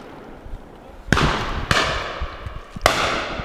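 Shotgun shots on a pheasant shoot beaters day at the Whitbourne estate, three sharp cracks spaced about half a second to a second apart, moderately distant, over outdoor background noise.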